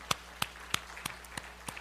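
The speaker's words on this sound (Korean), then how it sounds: "박수 박수 박수." A church congregation at a Sunday evening Easter service claps in a sparse, brief burst: about seven separate claps spaced evenly, fairly faint, with no voices over them.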